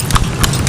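A horse's hooves clip-clop close by in a quick, brief run of sharp knocks on a hard surface, with low rumbling noise beneath.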